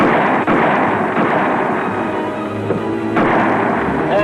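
Gunfire from a shootout in a Western TV show, a dense, loud barrage of shots and rumbling blasts that continues without a break for several seconds, with a few sharper cracks standing out.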